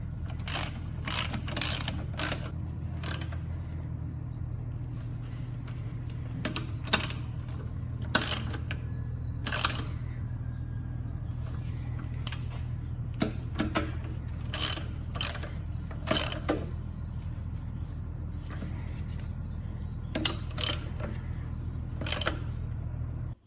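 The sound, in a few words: ratchet with 12 mm socket tightening bolts in crisscross pattern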